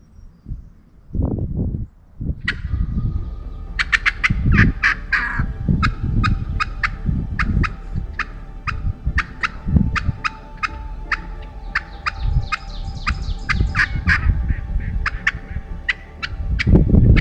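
Wild turkey gobblers in Michigan's Upper Peninsula during spring season gobble repeatedly and loudly from close range, the rattling calls coming in quick bursts over rustling and other low noises.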